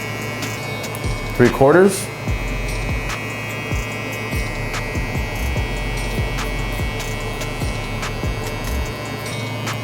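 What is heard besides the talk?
hair clippers running with lever open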